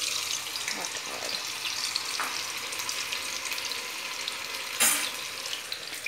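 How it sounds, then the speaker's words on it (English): Pumpkin flower pakora frying in hot oil, a steady bright sizzle throughout with a brief louder burst near the end, faint voice in the background. "Take out the excess liquid and put it in the hot oil."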